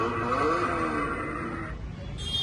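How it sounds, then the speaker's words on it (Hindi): A golden yellow toy Bugatti car plays its engine-start sound effect, a loud electronic revving whine that rises and holds, then cuts off into a quieter buzz, amid shop background noise. "तो गाइस आप लोग इसका साउंड देख सकते हो, जैसे मतलब एक रियल मतलब ओरिजिनल गाड़ी आती है वैसा साउंड स्टार्टिंग में देती है।"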